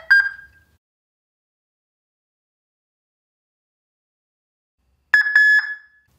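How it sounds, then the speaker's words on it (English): An S1 Stealth black alarm siren, just plugged back in during programming, gives one short electronic beep, then after a pause about five seconds long a quick run of several sharp beeps, with silence in between. "The siren should beep several times in a row."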